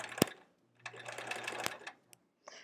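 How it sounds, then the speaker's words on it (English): A sewing machine stitches a quilt block seam in short, close bursts of rapid mechanical whirring, stopping and restarting with brief clicks in between. "So I'm flattening it and then sewing it down and then flattening it again and then keeping on sewing"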